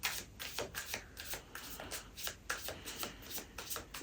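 Tarot cards being shuffled by hand, a steady run of quick riffling and flicking bursts, close and fairly quiet with no speech.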